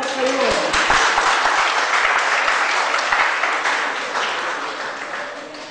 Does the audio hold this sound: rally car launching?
no